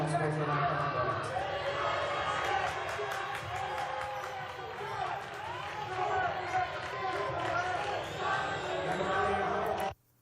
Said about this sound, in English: as you can hear, the crowd's very loud.